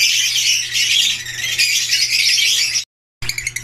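A sick bird's harsh, raspy squawk drones loudly and continuously, breaks off briefly, then resumes.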